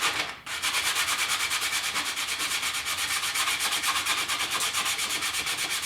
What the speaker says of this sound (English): I'm just using some 150 grit here because we are going to put some primer on it.